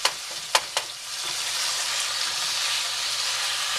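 About a pound of ground beef browning in a pan over fairly high heat, a few sharp clacks of a spoon at first, then a steady, close hissing sizzle.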